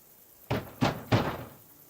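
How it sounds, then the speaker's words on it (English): Three heavy thuds of someone banging on a wooden door in Kingdom Come Deliverance 2, struck at a steady beat, close and loud, each knock ringing out briefly with no talking. "I'm going to bang on the door."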